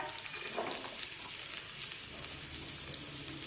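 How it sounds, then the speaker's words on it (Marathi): Chopped onion, carrot and peas sautéing in a pan over medium heat, a steady soft sizzle and crackle that holds at an even, fairly quiet level throughout, with no talking. "आता या सर्व भाज्या व्यवस्थित परतून घेऊया"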